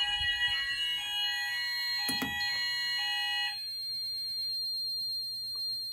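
An Apollo XP95 fire alarm sounder base sounds continuously with a steady, shrill electronic tone, close and alone, briefly interrupted by a soft thump partway through before the tone settles slightly quieter.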